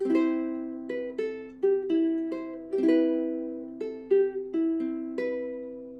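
The opening two measures of a song, played fingerstyle on ukulele as clear plucked notes and small chords in a gentle, steady melody, close and solo.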